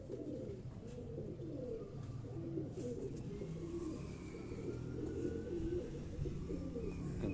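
Pigeons coo softly and repeatedly in low throaty rolling phrases, fairly faint and close, with a light ambient background.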